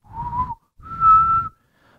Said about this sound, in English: Some middle ones are whistling